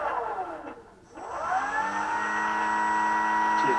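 Electric motor of an RC flying wing under throttle, a whining pitch that dips and then rises smoothly into a loud, sustained high whir.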